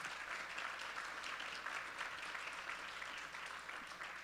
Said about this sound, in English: Can we give them a big round of applause for their time and expertise?